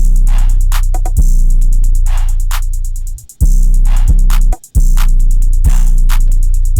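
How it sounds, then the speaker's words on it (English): A drum pattern built in FL Studio loops steadily, with booming 808 bass, sharp claps, sizzling open hi-hats and conga hits. It is loud and up front, with two brief dropouts where the beat cuts out. "So all the drums together sound like this."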